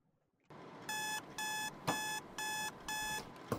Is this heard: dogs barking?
no